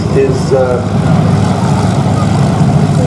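A Boeing B-17 Flying Fortress, the four-engined propeller bomber Sally B, drones loudly and steadily at the Flying Legends airshow, with a commentator talking over the engine noise.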